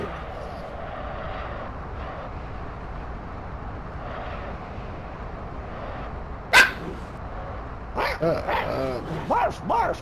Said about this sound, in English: My dog made your dog bark.